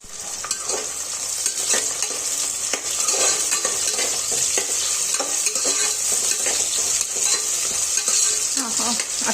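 Onions frying in ghee with whole spices such as fennel and shahi jeera, for chicken donne biryani: a steady, loud sizzle throughout, with frequent stirring clinks and scrapes in the pan and no talking.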